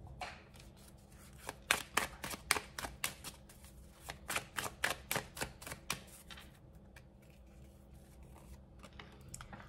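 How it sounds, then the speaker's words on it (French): A tarot deck is handled as two cards are drawn: quick, crisp riffling flicks and snaps in a close, dense burst, then tapering off to quiet near the end. "je vais prendre 2 cartes comme ça."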